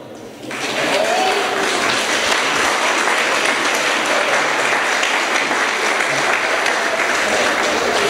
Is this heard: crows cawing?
no